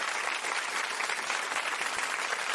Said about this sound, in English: I take that applause on behalf of everybody who worked this